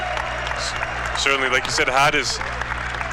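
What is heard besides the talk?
crowd applause at a basketball game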